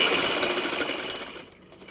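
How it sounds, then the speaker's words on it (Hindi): Sewing machine stitching the sleeve seam of a kurta, a fast continuous mechanical whir close by that runs steadily and then stops, leaving quiet room tone. "अब ये हमने बाजू की सिलाई लगानी है"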